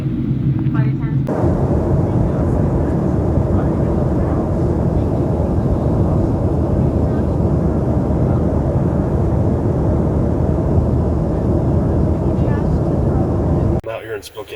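Airliner cabin noise during the landing approach, a loud continuous low roar and rumble of engines and airflow that holds steady throughout, with faint voices briefly at the start and end.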